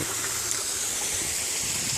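A small waterfall in Norway gives a steady, even hiss of falling water that stays constant for about two seconds, with no voices.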